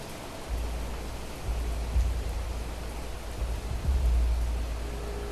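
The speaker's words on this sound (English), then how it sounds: "Also, this rain is really, really loud." Heavy rain in the video game The Planet Crafter pours steadily with a loud, continuous hiss, joined by low rumbling swells that rise and fall underneath.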